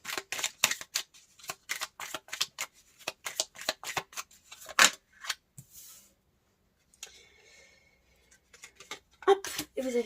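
Tarot cards being drawn and handled, a quick run of crisp snapping and shuffling flicks close up, then a brief quiet pause before a few more sharp card sounds.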